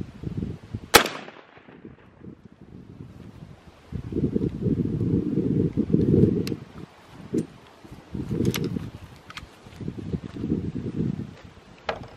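One sharp, loud rifle shot cracks outdoors near the start while a Burris FastFire sight is being zeroed with light loads in an old gun. Gusty wind buffets the microphone for the rest, with a few faint knocks.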